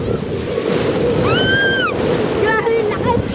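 Strong ocean waves surge and break close by in a continuous loud wash of surf, with people talking over it.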